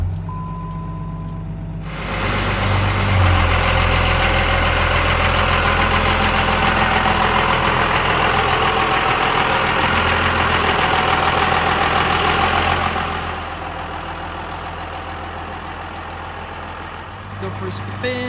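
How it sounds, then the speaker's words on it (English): Cummins 12 valve diesel engine with an AirDog fuel pump idling, a steady loud rumble lasting about eleven seconds with a quieter idle before and after, and a voice speaking over it. "I'm listening to the air dog pump. Before it would make quite a bit of noise."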